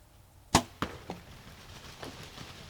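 A roughly 420-grain arrow with a chisel-point replaceable broadhead is shot on a bowhunt: one sharp crack, then a few quick fading thumps and rustles.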